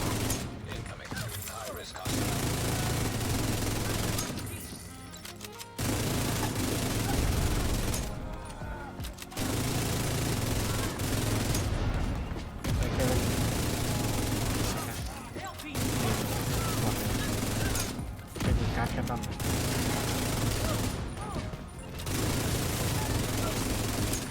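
Dense bursts of gunfire from the Destiny video game during an exotics-farming global event, loud and sustained in rapid volleys broken by several short pauses, with a voice talking over the shooting.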